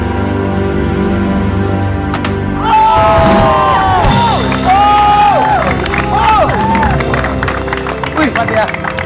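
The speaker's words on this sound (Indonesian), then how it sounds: "Tepuk tangan untuk Pak Udin." An audience cheers, whoops and claps loudly at an Indonesian Independence Day talk show, the rising crowd noise breaking out after a few seconds over a music bed and carrying on to the end.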